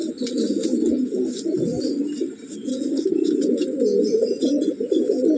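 Close, continuous cooing from a pair of Lalbon pigeons fills the whole stretch in dense, overlapping rolls, with faint thin chirps above and no talk.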